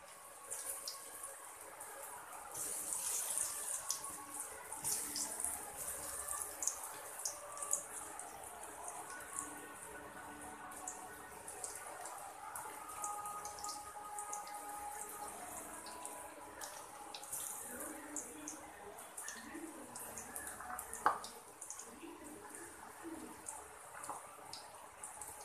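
Raw banana pakoda batter fries in hot oil with a soft, steady sizzle broken by small scattered pops and crackles. The sound is quiet and close, with no talking.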